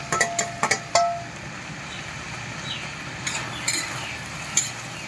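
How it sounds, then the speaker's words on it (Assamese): Dhekia greens with onion and chili are stirred in hot tempering oil. A few sharp utensil knocks come first, then a steady close sizzle with occasional scraping strokes and no talking. "শাকটো হিলাই আছোঁ মই এই পিঁয়াজ জলকীয়া দিলোঁ ঠিকিয়া ভাজাত"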